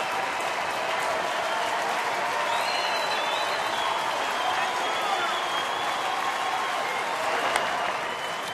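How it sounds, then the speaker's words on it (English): A baseball stadium crowd at a Kansas City at Detroit game cheers and applauds steadily for over eight seconds, a dense, continuous roar of clapping and voices with no pauses. "And here comes the crowd."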